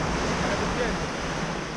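Caribbean sea waves wash on the shore, a steady broadband rush of surf mixed with wind noise on the microphone, continuous and fairly loud.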